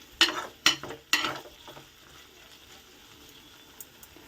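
Potato curry frying in a pan opens with three sharp sizzling bursts in quick succession, then fades to a faint, steady crackle with a couple of small pops near the end.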